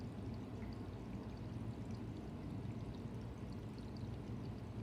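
Water runs steadily from a small Chinese tabletop waterfall, a continuous soft pouring and trickling that stays even and close, with no voices over it.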